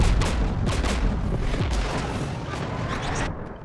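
Anti-aircraft guns in the video game Mass Effect 3 let out loud, dense bursts of rumbling gunfire and booms that roll continuously, then taper off near the end.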